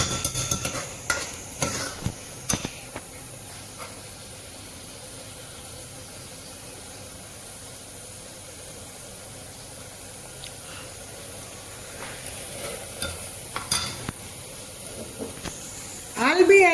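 Mutton kheema being stirred and dried out in a pan, a soft scraping and sizzling texture that runs low and steady throughout, with louder clattering stirs near the start and at the end.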